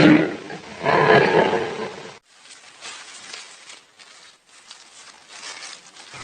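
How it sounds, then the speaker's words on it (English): A lion roars loudly and close for about two seconds, then quieter rough, breathy bursts follow in short, uneven bouts. "A lion's roar is a high-intensity sound"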